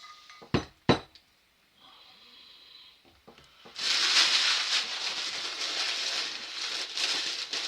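A heavy cast iron cocotte lid is handled in a shop caddie, first a few sharp metallic clinks and knocks close by, then a long rushing scrape of metal and rustle.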